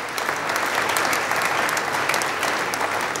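Applause from the audience at a congress, a full, even burst of many hands clapping at steady volume, heard alone without speech.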